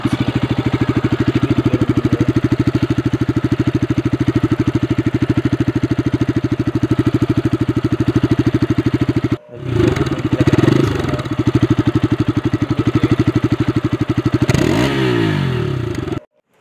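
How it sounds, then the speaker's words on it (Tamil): A Bajaj Pulsar RS200 motorcycle engine runs close by with a steady, throbbing idle, breaks off briefly, then comes back with a couple of rising revs before cutting out. "இப்போ கொஞ்சம் ஸ்பாஞ்சில் ஆட் பண்ணி பைக்கை ஸ்டார்ட் பண்ணி காட்டுறேன்"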